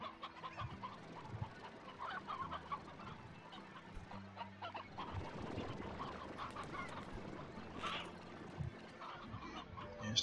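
Chickens in the game Slime Rancher cluck continuously in a busy flock, overlapping clucks and squawks mixed with a faint background hum, moderately loud and steady for several seconds.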